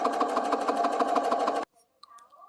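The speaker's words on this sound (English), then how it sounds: "I've done my back stitch and everything to make sure my threads stay in there" A sewing machine back stitching a skirt pocket casing runs in a fast, steady mechanical whirr for about a second and a half, then stops abruptly, leaving faint handling clicks.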